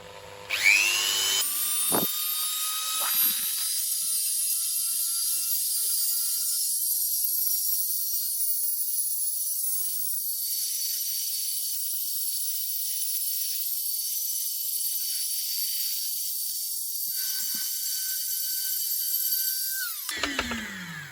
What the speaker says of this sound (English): which is going to sand the inside of this neck so we can get it fit on that ball joint